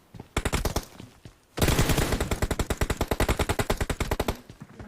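Automatic gunfire in a video game team deathmatch. A short burst is followed by a brief pause, then a long, loud, evenly paced stream of rapid shots, close and alone with no talk.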